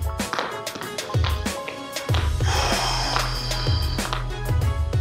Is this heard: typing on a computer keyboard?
no